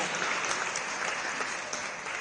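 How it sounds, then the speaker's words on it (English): An audience gives a round of applause at a live awards ceremony, a dense steady wash of clapping that holds at a constant level throughout with no voices over it. "And a round of applause for Vinta for being so grand"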